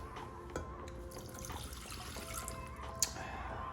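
Water runs steadily and faintly into a saute pan, with a soft continuous trickle and a couple of light clinks.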